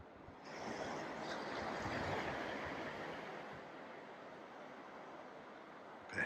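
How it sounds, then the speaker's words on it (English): Steady, soothing wash of sea waves on the Suffolk coast, a continuous broadband surf roar that swells slightly and then holds even, with no voices. "It's very soothing, isn't it, the sound of the sea?"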